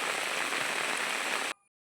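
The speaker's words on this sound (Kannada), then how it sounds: "ನೋಡಿ ಎಷ್ಟು ಜೋರು ಬರ್ತಾ ಇದೆ ಅಂತ ಹೇಳಿ ಮಳೆ." Heavy rain falls in a village setting as a dense, steady hiss that fills the scene and then cuts off abruptly near the end.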